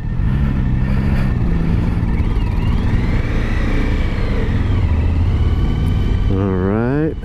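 A 2023 Suzuki V-Strom 1050 motorcycle engine drones steadily while riding, a continuous close hum with wind noise that rises in pitch near the end, with someone talking over it.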